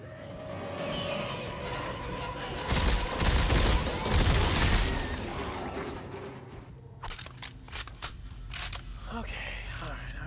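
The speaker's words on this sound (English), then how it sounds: "Why are you shooting at me," Gunfire in a shooter video game against men and monsters, a loud cluster of rapid shots in the middle, then sharp, spaced single cracks toward the end, with a voice talking over parts of it.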